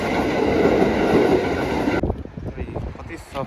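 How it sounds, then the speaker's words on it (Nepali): A train rushes past in Japan with a loud roaring wash and rattling wheels, then drops away sharply into quieter rumble and clacks, with a voice speaking over it. "यताबाट ट्रेन आउँदैछ"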